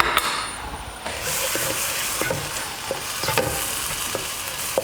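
Garlic fries in a pan with a loud, steady sizzle and crackle, broken by scattered clacks of stirring.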